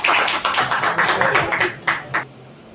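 An audience at an All India mushaira claps to welcome a poet, with dense, close clapping that rolls on in uneven bursts before tapering off near the end.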